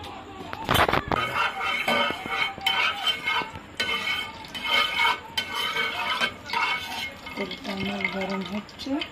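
An egg frying in a pan for an eggplant and egg dish, with a steady sizzle under stirring, utensil clinks against the pan and a voice talking over the cooking.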